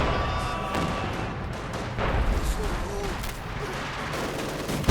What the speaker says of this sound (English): And a bit of artillery fire into the town centre as well.